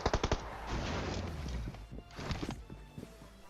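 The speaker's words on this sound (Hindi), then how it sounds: "जहां पे बंदा लेटा पड़ा था वहीं पे लेट के गोलियां दे रहा है" Rapid bursts of gunfire in the PUBG Mobile battle royale game, a quick string of sharp shots at the start followed by more scattered cracks over a continuous background rumble.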